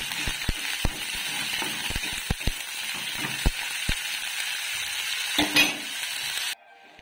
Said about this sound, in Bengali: আর একটু সবজিগুলো আগে ভেজে নিই